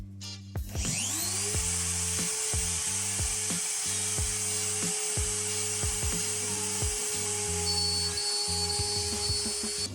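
Milling machine with a new DLC-coated cutter machining a homemade bandsaw wheel, giving a steady high whine with rhythmic repeating cutting pulses throughout, close and continuous with no talk.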